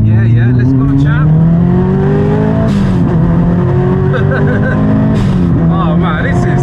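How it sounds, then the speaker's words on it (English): A 400hp Subaru Impreza STI Spec C engine roars loudly from close by, its pitch climbing under throttle, then a sharp throttle blip as it rev-matches down to second before pulling hard again. "Rev match down to second."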